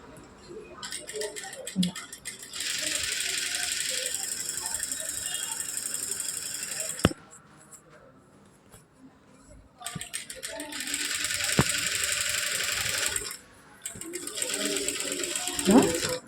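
A sewing machine stitching a neck design on fabric, running in two long steady bursts of rapid whirring clatter separated by pauses with clicks and handling, close by, with a voice talking between runs.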